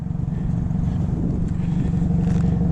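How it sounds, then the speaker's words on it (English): Turbocharged four-cylinder engine of a Hyundai Elantra N with a six-speed manual, idling with a deep, steady low rumble at close range, no talk over it. "This is from a turbocharged 4-cylinder."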